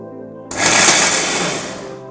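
A kitchen blender whirs into action, pureeing jaggery powder with chopped bananas: a sudden loud motor start followed by a steady high-pitched grinding whine that slowly eases, heard alone without talk.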